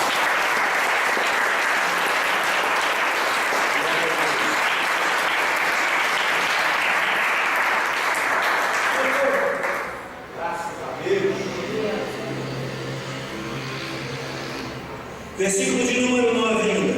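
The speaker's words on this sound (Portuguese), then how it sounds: "Dê uma linda salva de palmas para o Senhor Jesus." A church congregation breaks into long, loud sustained applause for Jesus during a worship service, steady clapping for about ten seconds before it thins into quieter room sound with a voice speaking and a brief musical tone near the end.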